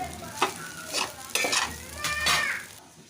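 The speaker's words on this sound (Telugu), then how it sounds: "ఇలా రైస్ని యాడ్ చేసుకున్న తర్వాత మంచిగా అయితే కలుపుకొని ఇదే లో ఫ్లేమ్లో ఒక ఫైవ్ మినిట్స్ వరకు అయితే మనం ఈ రైస్ని అయితే వేడి చేసుకోవాలి" A spoon stirs leftover rice in a pan over a low flame, with scraping metal strokes and clinks against the pan under a soft sizzle, close by and with no talk.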